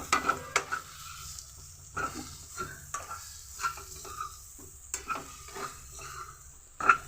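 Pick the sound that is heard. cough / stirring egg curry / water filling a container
stirring egg curry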